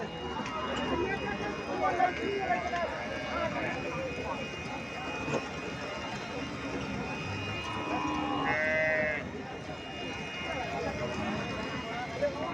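Jersey cows and calves at a bustling cattle market in Comilla, with scattered moos and hoof shuffles beneath constant crowd chatter and nearby voices speaking.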